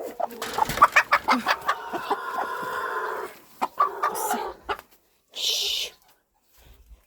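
A broody hen clucks in a series of short, close clucks and low grumbling calls with pauses between them, and a voice talks softly over them.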